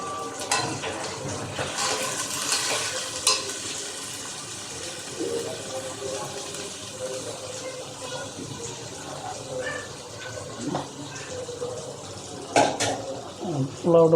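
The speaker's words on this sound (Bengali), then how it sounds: "পোলাওর চালটা ভালোভাবে কষিয়ে নিচ্ছি আমরা।" Polao rice being stir-fried in a pot, with scraping and clinking of a spoon against metal over a soft bubbling hiss, close by, with occasional louder knocks.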